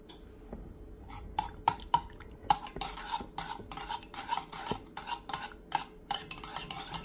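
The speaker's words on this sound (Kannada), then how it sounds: "ಶುಗರ್ ಒಂದು ಸ್ವಲ್ಪ ಮಿಕ್ಸ್ ಮಾಡ್ಕೊತಾ ಇದ್ದೀನಿ" A spoon stirs sugar into a cup of milk coffee made with decoction, with repeated sharp clinks of metal against the cup and soft swirling liquid at close range; no voices are heard.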